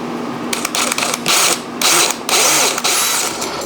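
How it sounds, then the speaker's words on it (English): A power drill bores countersinks for short screws in a kitchen towel holder project, several close bursts of whining drilling separated by brief pauses, loud and without talk. "So I will start the countersink."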